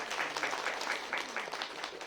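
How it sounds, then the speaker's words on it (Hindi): An audience at a Brahma Kumaris murli class claps in a fairly quick, rhythmic burst, moderately close and alone without talk. "ताली बजाओ अपनी"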